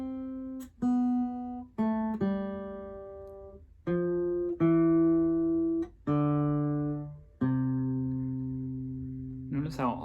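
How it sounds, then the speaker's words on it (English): A descending Joy to the World melody starting on C, played as clear sustained notes one after another with short gaps between them, ending in a brief noisy burst. "played it descending, audiated the melody to Joy to the World"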